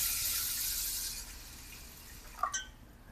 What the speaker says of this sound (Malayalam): വെള്ളം ഒഴിക്കട്ടെ.